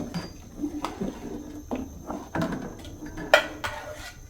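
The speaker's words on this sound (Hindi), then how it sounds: "मैंने सारे इसमें डाल देंगे और साथ साथ इसको मिक्स करते जाएंगे इस तरह" A metal spoon scrapes and clinks against a cooking pot as rice is stirred in for gajarela, a run of irregular light knocks and taps, fairly quiet and close.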